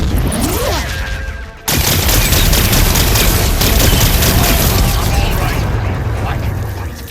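Loud cannon blasts and rapid bursts of fire in the video game Horizon Forbidden West, a dense roar of booms and mechanical clatter with a sudden cut partway through before the barrage resumes.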